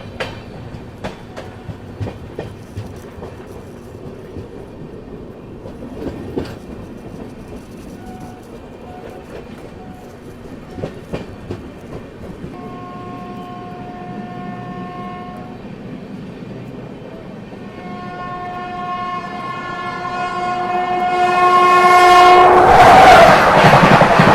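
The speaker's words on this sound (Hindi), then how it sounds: "और ये हमारी तेज रफ्तार दुरंतो एक्सप्रेस।" The Kolkata–Pune Duronto Express passes at speed with rhythmic clatter of wheels over rail joints, then a long two-tone horn blares as the roar builds loud and close at the end.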